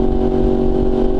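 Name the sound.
2018 Yamaha R1 motorcycle engine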